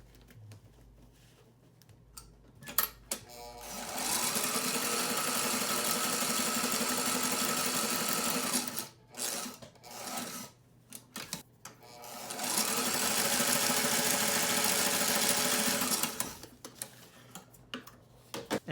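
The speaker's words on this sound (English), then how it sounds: "I'm going to stitch these one side at a time" A sewing machine stitches layers of medical-grade mask fabric, running in two long, steady bursts of rapid stitching. Short pauses and handling noises fall between the bursts.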